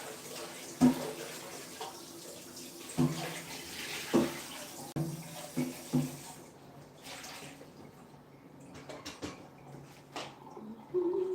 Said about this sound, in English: I will wash now our rice cookers for later on.